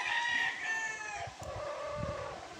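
A white Bruce Barnett sweater gamefowl rooster crows once, a loud, drawn-out call near the microphone that fades into low clucking and scratchy farmyard noise.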